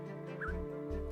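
A bird in Minecraft gives a short, gobbling squawk, brief and fairly faint, over a low steady game background with no talk.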